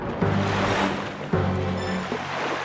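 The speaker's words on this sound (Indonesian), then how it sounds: "seketika itu angin bertiup kencang dan menggoyangkan sebagian badan kapal" Strong wind and heavy sea surge rock a ship in open water, a steady broadband roar with low rumbling swells that jumps louder partway through and stays loud.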